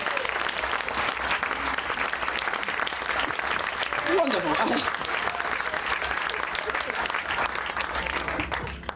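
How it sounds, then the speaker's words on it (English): Audience applause for a volunteer heading back to her seat at a comedy magic show, loud and sustained throughout, with someone speaking briefly over the clapping partway through. "everyone give her a huge round of applause as she goes back to her seat"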